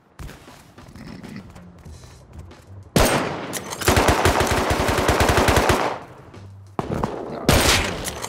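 Rapid automatic gunfire from an AK rifle in an online survival shooter game, long loud bursts of machine-gun fire with a brief pause and a final burst, no talking.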